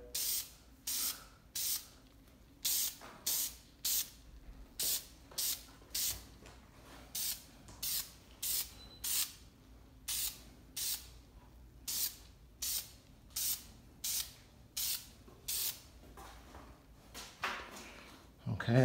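Repeated short hissing bursts from a spray can of primer, evenly spaced and close, continuing for the whole stretch with a brief rustle at the end.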